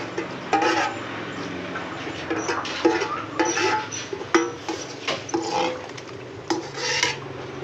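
A cooking pot of rice-noodle curry sauce is scraped repeatedly at a village merit-making gathering. Close, rhythmic metallic rasps and scrapes come in uneven strokes over a low background hum.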